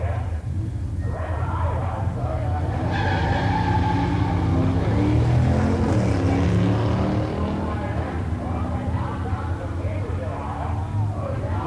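A 1967 Plymouth GTX 440 and a 1966 Cyclone run side by side at a 1986 pure-stock muscle car drag race, their engines roaring loud and continuous with some tire noise, with voices heard over the racket.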